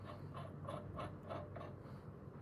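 A bolt is tightened on a Cal-Van tool, producing about five faint, evenly spaced ratcheting clicks over a low background hum.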